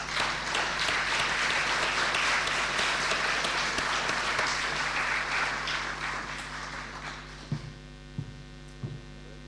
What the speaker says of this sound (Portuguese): Um aplauso para ele.